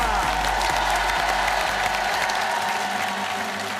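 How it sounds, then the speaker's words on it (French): Lively studio audience applause for Hakim and Malika on a French television charity special, loud and close, with scattered cheers and whoops over a low steady hum, fading slightly toward the end. "On applaudit"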